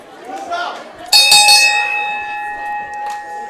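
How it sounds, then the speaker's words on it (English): A bright bell rings out sharply and its tone lingers, slowly fading, with a voice talking faintly before the strike. "Such good bell ringing there."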